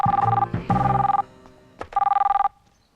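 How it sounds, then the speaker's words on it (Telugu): A telephone rings loudly nearby, three trilling bursts with short gaps and a brief clatter between them. "ముందు ఫోన్ వచ్చింది చూడు"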